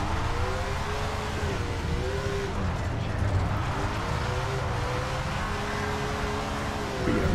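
Race car engine in SRX: The Game, a stock-car racing game at Elm Creek, holding a steady loud drone with rising and falling pitch sweeps as the revs climb and drop through the gears, continuous and close.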